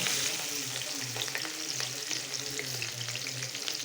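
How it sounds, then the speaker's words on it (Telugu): Green chillies and onions sizzle and crackle in hot oil for a curry, a steady close frying hiss with small pops and light stirring, no voices. "ఇప్పుడు పచ్చిమిరపకాయలు వేసుకుందాం పచ్చిమిరపకాయల తర్వాత ఉల్లిపాయలు వేస్తున్నానండి"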